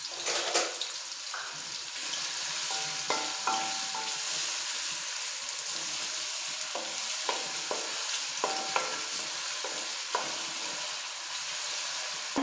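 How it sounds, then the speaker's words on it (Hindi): A medium onion frying in oil in a karahi for kaleji, a soft steady sizzle broken by scraping stirs and light metallic clinks of a spoon against the pan, no voices. "अब हम इसमें एक दरमियाने साइज़ की प्याज ऐड करेंगे और प्याज को पकाएंगे।"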